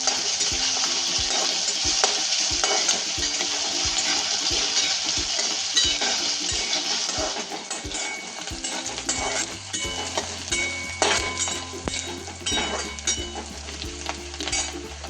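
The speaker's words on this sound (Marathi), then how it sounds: "तेल तापलं, आता कांदा टाकून घेते।" Chopped onion sizzling and frying in hot oil in a pan while being stirred, a steady bright crackling hiss with periodic clinks and scrapes of a spoon, later joined by a low steady hum.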